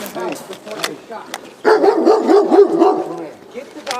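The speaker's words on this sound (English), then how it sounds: "Get the dog in the house." Dog barking during a police encounter outdoors at a house, with a taser deployed on the attacking dog; loud, repeated barks and yelps come in a burst in the second half, mixed with shouting voices.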